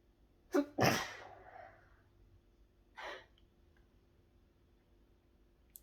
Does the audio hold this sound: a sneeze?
yes